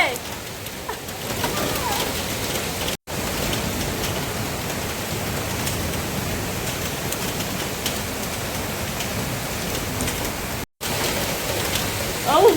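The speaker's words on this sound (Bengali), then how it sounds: "বৃষ্টি পড়ছে" Steady rain pours down in a continuous even hiss, close and dense, for the whole stretch, with only two brief dropouts.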